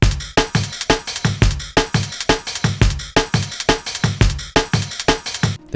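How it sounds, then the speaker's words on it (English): Fast, crisp hi-hats ride over a breakbeat of thumping kicks and snares, a dense, driving loop repeating steadily, loud and close, no voices. "The fast hats here also really add energy to the breakbeat."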